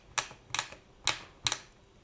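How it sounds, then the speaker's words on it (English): A blade chops through small scraps of polymer clay on a hard work surface, four crisp taps spaced about a third of a second apart, close and fairly quiet with no talking. "we're just going to give those a light chop again"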